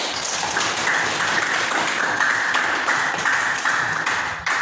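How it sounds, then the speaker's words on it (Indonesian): Students in a classroom clap for a classmate, a steady patter of many hands close by, even and continuous throughout, with no talk over it. "Berikan tepuk tangan untuk temannya."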